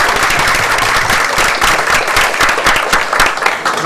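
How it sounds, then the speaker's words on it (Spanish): An audience at a book presentation bursts into loud, sustained applause, dense clapping filling the room without pause. "Con el aplauso de todos ustedes."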